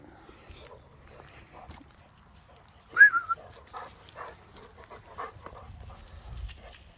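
Bandog puppies out in the woods give one sharp whimpering yelp amid quiet rustling and faint scattered movement.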